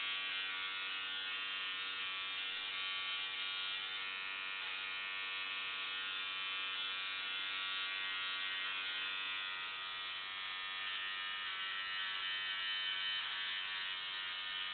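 Electric shaver, a Philips Norelco OneBlade or MicroTouch Solo, hums with a steady, thin, high-pitched buzz, close and unbroken, with no speech.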